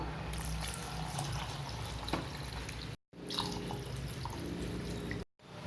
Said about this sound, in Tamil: அதுக்கு 2 டம்ளர் அளவு தண்ணி சேர்த்துக்குவோம்.